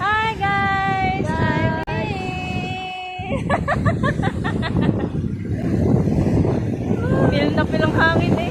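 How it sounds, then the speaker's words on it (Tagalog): Strong wind buffeting the microphone during a boat ride, a loud continuous roar with an engine drone beneath, while people talk and laugh over it. "Feel na feel ang hangin eh."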